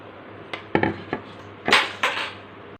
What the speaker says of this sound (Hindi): अब हम इसको हल्का हल्का सा टैप कर लेंगे ताकि एयर बबल्स निकल जाएं।